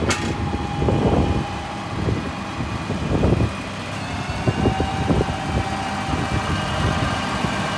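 A hook lift truck slides its load forward along the hook arm, a steady mid-pitched hydraulic and engine drone with low rumbles and occasional clunks of the body shifting, close and continuous throughout.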